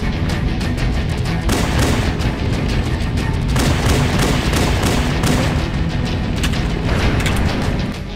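Loud, dense gunfire from the pistol in the first-person shooter Halo: Combat Evolved, with shots coming fast enough to run together into a continuous, booming barrage that lasts throughout.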